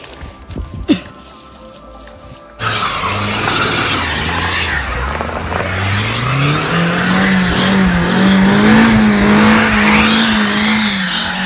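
Car fitted with snow chains on a snowy mountain road, its engine revving hard and rising in pitch with tire skidding noise. It starts after a short quiet moment and stays loud and close to the end.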